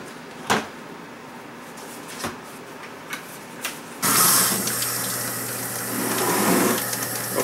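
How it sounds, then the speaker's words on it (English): After a few clicks and knocks, hot tap water gushes into a bucket at a basement utility sink, a loud steady splashing rush that continues to the end. "I'm going to fill this rest of this up with hot tap water"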